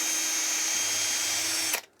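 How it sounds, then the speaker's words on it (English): A power drill whirs steadily and loudly for nearly two seconds while boring a shallow pilot hole for screw eyes into a wooden gallery-wrap canvas frame, then cuts off abruptly. "I like to drill a pilot hole"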